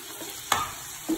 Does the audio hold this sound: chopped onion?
yes